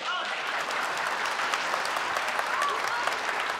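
Audience applause at a televised crosstalk comedy show, a dense, steady round of clapping from a large crowd filling the whole moment.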